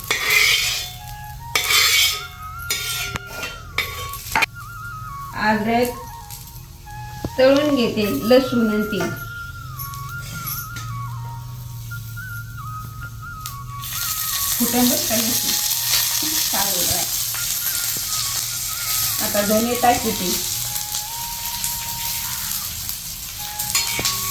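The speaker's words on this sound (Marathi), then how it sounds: "आता कांदा भाजलाय आपला हे काढून घ्यायचा हा कांदा गिरतीच ना आता काढून घ्यायचा" Onion frying in a pan is stirred and scooped out, with a metal utensil clinking and scraping against the pan over a steady sizzle that grows louder midway. Someone talks at intervals.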